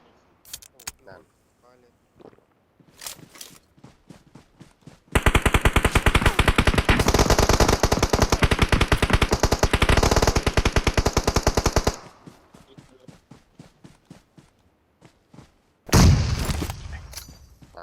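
Rapid automatic gunfire in the mobile game PUBG Mobile rattles loudly for several seconds, with scattered single shots and a final heavy blast, while players talk over voice chat before and between bursts.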